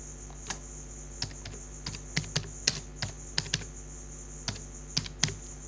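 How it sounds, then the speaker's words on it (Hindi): Typing a word on a computer keyboard in LibreOffice Writer, a dozen or so crisp, close key clicks in an uneven rhythm over quiet background hum, with no talking. "कोई वर्ड हम टाइप कर देते हैं"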